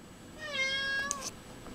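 A kitten meows once, rising and falling, close and clear, wanting to go outside through an open screen door, followed by a couple of faint clicks.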